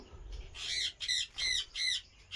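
A caged male and female pair of pet cocktail birds squawk close by, four shrill, harsh calls in a quick row after a short noisy start.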